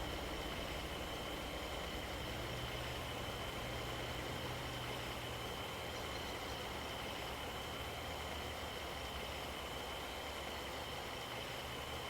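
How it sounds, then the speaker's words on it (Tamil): Truck engine idling in Euro Truck Simulator 2, a steady, even drone with a low rumble and a constant hum, holding unchanged from start to finish with no talking. "வண்டி ஸ்டார்ட் பண்ணியாச்சு"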